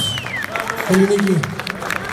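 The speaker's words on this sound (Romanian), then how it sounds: "Un aplauze pentru ei!" Audience applause and crowd noise at an outdoor Greek food festival in Romania, a dense wash of clapping with a brief swell in the middle, mixed with voices and babble.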